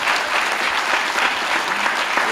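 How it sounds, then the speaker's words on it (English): An audience at a forum applauds panelists, a dense sustained wash of clapping from a crowd, loud and steady from start to finish. "please join me in giving our panelists a round of applause"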